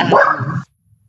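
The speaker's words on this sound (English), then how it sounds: "the dog is definitely wanting to play" A dog gives a single short, loud bark close by, then the room falls quiet.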